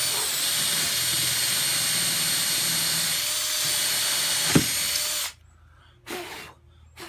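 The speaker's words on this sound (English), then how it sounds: "finish drilling the hole, takes a little pressure" A power drill whines steadily and loudly for several seconds drilling a hole through wood for a trolling motor plate on a boat, then cuts off abruptly, followed by a brief quieter burst.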